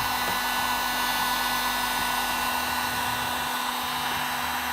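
A heat gun blows a steady, loud, continuous whooshing hum while heating the seal of a 2014+ GMC Sierra permaseal headlight, close up and alone without talk.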